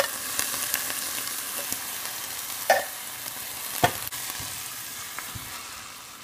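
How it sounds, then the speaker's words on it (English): Sautéed onions and tomato sizzle in a pan, a moderate steady frying hiss broken by a few sharp clinks and scrapes of a utensil stirring, with no talking. "Okay, onions are sauteed."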